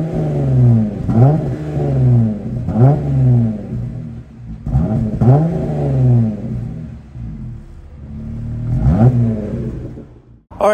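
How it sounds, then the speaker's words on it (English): A Jeep Gladiator fitted with a Magnuson supercharger and AWE exhaust fires up and revs several times, each blip swelling into a deep, loud rumble with supercharger whine before settling back to a throaty idle. "so you guys got the start up there and a couple little revs"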